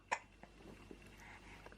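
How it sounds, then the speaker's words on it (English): A six-month-old baby girl hiccups once, a short sharp catch close by, followed by soft fainter breathy sounds in a quiet room. "she's hiccuping too hard for her water"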